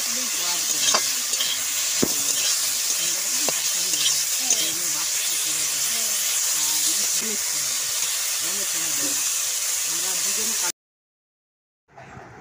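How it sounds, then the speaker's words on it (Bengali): Prawns fry in hot oil in a wok with a steady close sizzle and hiss and occasional utensil clinks, for a lau chingri dish, before a sudden cut to near silence near the end. "আমার তো এখানে চিংড়ি মাছগুলো ভাজা হয়ে গেছে"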